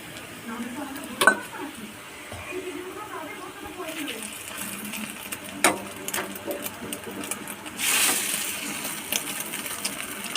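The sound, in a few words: egg roll wrap frying crisp in a pan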